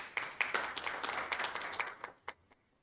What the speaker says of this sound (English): So let's give a round of applause for our judges.